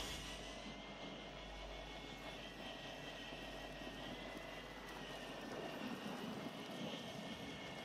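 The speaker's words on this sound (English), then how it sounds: "Recon drone online." A recon drone in the shooter game Warzone gives a steady, droning engine hum with a propeller-like buzz, held evenly for several seconds with no talking.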